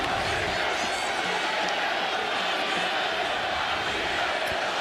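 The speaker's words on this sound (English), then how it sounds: "And a chant of Pavia from the crowd, sold out at First Bank Stadium" Sold-out stadium crowd at First Bank Stadium during a Kentucky vs Vanderbilt college football game, a dense continuous roar of chanting voices, steady and loud throughout with no single voice standing out.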